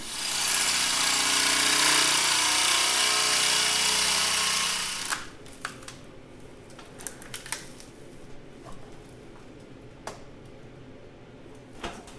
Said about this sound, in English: I'm going to cut some strips 3 inches wide to make hat section reinforcements for the table out of this 18 gauge.